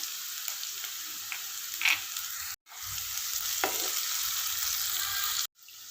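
Vegetables and finely chopped green chili stir-fry in hot oil in a pan for chicken fried rice, a loud steady sizzle broken by occasional spatula scrapes and two brief dropouts.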